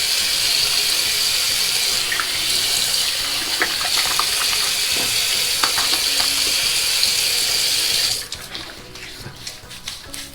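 Water runs from a tap into a sink while washing up before a shave, a steady loud rushing stream that cuts off abruptly after about eight seconds, leaving faint handling sounds.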